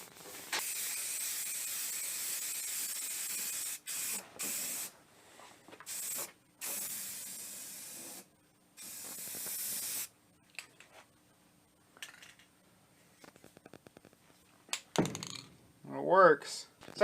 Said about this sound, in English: Put a little spray paint on the bottom.